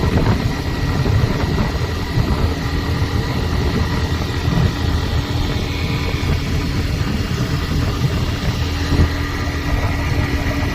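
A Hero Xtreme 125R motorcycle runs at highway speed with an odd engine sound, heard as a loud, steady roar blended with rushing wind noise, continuous and unbroken throughout.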